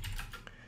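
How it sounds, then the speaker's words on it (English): Keys clatter softly on a computer keyboard as a network lookup command is typed. A few quick, quiet keystrokes come in a short burst at close range. "I can type in NSLookup"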